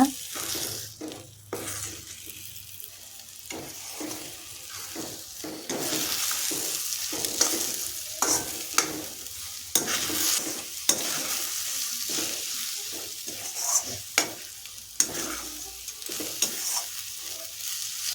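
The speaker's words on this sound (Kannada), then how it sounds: "ಮೊಟ್ಟೆ ಎಲ್ಲ ಚೆನ್ನಾಗಿ ಉದುರುದ್ರೆ ಆಗಬೇಕು ಅಲ್ಲಿವರೆಗೂ ಚೆನ್ನಾಗಿ ಫ್ರೈ ಮಾಡ್ಕೊಳ್ಳೋಣ" Scrambled eggs for fried rice sizzle steadily in a hot pan while a spoon or spatula scrapes and taps against the metal at irregular intervals, close up with no talking.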